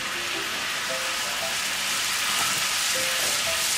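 Tomato paste sizzles in a hot pan while butter chicken is being made, giving a steady, close, loud frying hiss with faint stirring scrapes and no talk.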